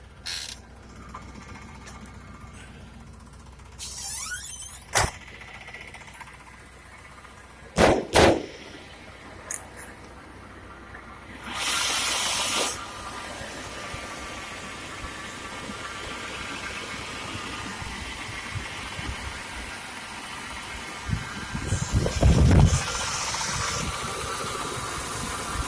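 Ticking and mechanical clatter from beneath a 1979 Pontiac Grand Prix with a 4.9 four-barrel carbureted engine, suspected oil pump fault, heard over a steady idle with a few sharp knocks and a loud burst near the middle.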